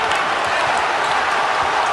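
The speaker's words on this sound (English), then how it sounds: "Crowd getting on its feet." An NBA arena crowd roars and claps as fans rise for the final seconds of a close Knicks–Jazz game, a dense, loud, continuous wall of cheering.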